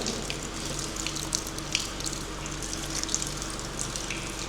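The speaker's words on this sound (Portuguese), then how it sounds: "Tá caindo água em cima de mim." Water runs and drips steadily inside the Capoeirão railway tunnel, a continuous splashing flow with scattered sharper drops echoing close by.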